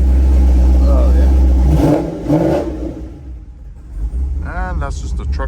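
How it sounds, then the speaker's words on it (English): A cammed GMC Sierra truck with an automatic transmission and 3400 stall converter rumbles deeply while held on the brake, then the low engine drone cuts out partway through, and someone talks during the closing seconds. "And that's just the truck stalling up."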